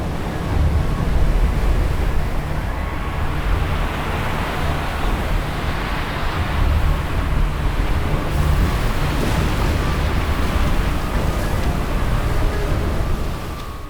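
Giant waves from an earthquake-driven tsunami on the Mediterranean coast produce a continuous, loud, churning roar of crashing water with a windy rush, steady and unbroken for about fourteen seconds.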